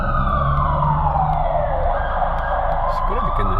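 A wailing emergency siren sweeps up and down over steady traffic rumble of a traffic jam after a tunnel accident, loud and continuous with a slow falling pitch glide.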